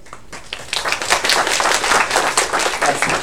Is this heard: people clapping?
yes